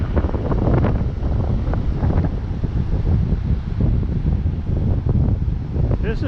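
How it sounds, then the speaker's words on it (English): Rough waves breaking in a bay under strong wind, a loud, continuous roar of surf with heavy wind buffeting the microphone throughout. "Look at them waves. Look at the size of them."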